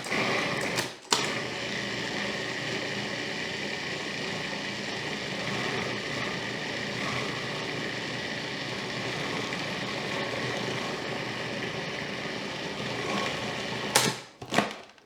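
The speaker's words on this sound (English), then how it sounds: "we're going to pulse those in there so that we can have this nice chunky texture in our banana bread" A food processor pulses chopped walnuts into a raw vegan banana bread mixture, giving a steady, loud mechanical whir that runs almost unbroken, with brief gaps near the start and end.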